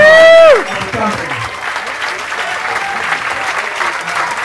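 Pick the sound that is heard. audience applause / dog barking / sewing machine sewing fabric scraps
audience applause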